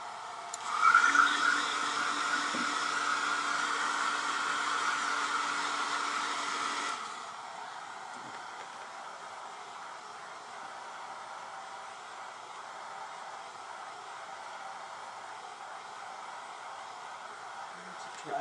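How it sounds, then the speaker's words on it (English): A blow dryer whooshes steadily for several seconds, loud and close, drying a wet decoupage Christmas banner, then cuts off, leaving a faint room hiss. "I'm going to go ahead and hit it with the blow dryer just one little time."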